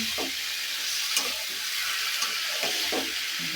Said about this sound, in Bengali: সিম দিয়ে তারপরে রান্না করে দিতেছি